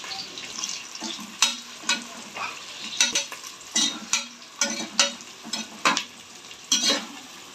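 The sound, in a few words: onions stirred and frying with spices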